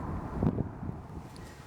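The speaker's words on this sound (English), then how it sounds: "it's kind of a little bit windy today" Low rumbling wind gusts buffet the microphone outdoors on a fairly calm December day, a steady broadband whoosh with a slightly stronger gust near the middle.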